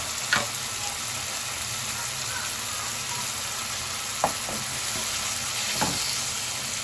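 Ginger garlic paste with salt fries in a pan, a steady close sizzle throughout with a few faint clinks of stirring.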